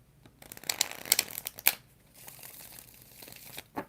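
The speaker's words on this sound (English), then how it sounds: "Let's get 5 shuffles for Charm." A deck of tarot cards being shuffled by hand: several quick papery riffling bursts close by in the first half, then quieter handling and one last short flick near the end.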